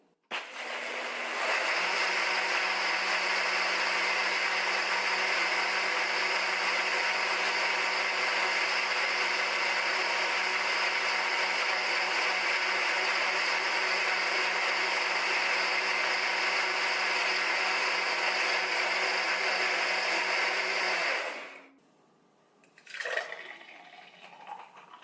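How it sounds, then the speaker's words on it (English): A KitchenAid 5 Speed Diamond Blender on its liquefy setting, running as a loud, steady motor whine with whirring liquid for about twenty seconds before cutting off abruptly, followed by a brief clatter. "I'm going to process this again because I don't think it's completely smooth. I'm going to use the liquefy setting."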